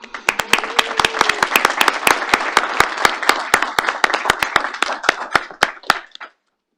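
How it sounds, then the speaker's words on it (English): Audience clapping at a FERC open commission meeting, sharp individual claps over a softer applause bed, a few close hand claps standing out, lasting about six seconds before cutting to silence. "we can clap for that"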